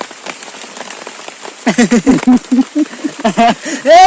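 Rain falls steadily on a tarpaulin shelter during a rainy picnic, a continuous close hiss of drops, while a person talks over it for part of the time.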